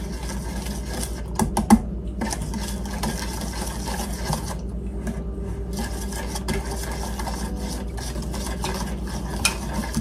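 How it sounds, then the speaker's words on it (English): Milk is poured slowly into a spiced cobbler batter of cinnamon and nutmeg while a whisk or spoon stirs steadily against the bowl, a continuous close scraping with a low hum underneath and a couple of sharper clinks. "I'm going to slowly add my milk in."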